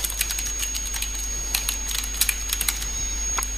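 An email address is typed on a computer keyboard in quick, uneven bursts of close, crisp key clicks, with a faint steady hum underneath.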